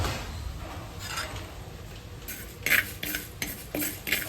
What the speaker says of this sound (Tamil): வெந்தயத்து சட்டியில் போட்டு வறுத்தெடுக்க போகிறோம்